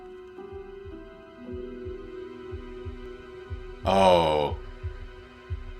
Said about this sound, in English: Slow down her heartbeat.